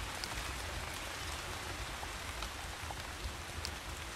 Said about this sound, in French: Bon, ah, il pleut